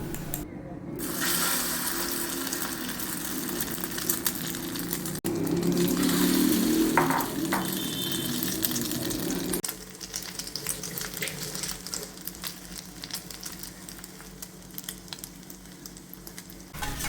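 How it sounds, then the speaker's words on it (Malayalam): Batter-dipped bread snacks frying in hot oil in a pan give off a steady crackling sizzle, close and continuous, with brief clatters of handling partway through. "ഇപ്പോൾ ഓയിലൊക്കെ ചൂടായിട്ടുണ്ട് ഇനി നമുക്കിത് ഓരോന്നായി എടുത്തിട്ട് ഇതിലൊന്ന് മുക്കിയിട്ട് നമ്മുടെ പാനിലേക്ക് ഇട്ട് കൊടുക്കാം"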